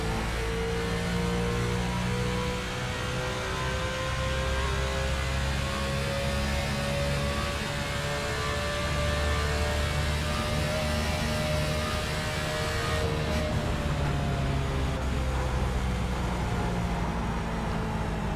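Onboard a race car lapping Pocono Raceway in an ASCA pre-season event: a loud, steady engine drone with shifting tones and constant road and wind roar throughout.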